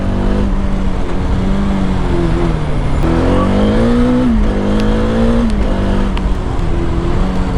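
A Bajaj Dominar 400 motorcycle is ridden, with a loud, continuous engine drone rising and falling as it changes speed, accompanied by steady wind and road noise throughout.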